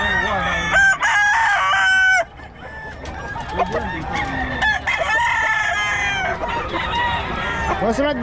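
Chickens and roosters at a poultry market in Bocaue cluck and crow repeatedly, several loud nearby crows overlapping with busy clucking, while people talk in the background.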